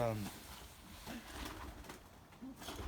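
Soft cooing of a racing pigeon from 2012, faint and close, heard under someone talking in French.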